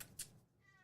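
A house cat meows at a door, asking to be let in: a single short, faint cry near the start, then quiet room tone.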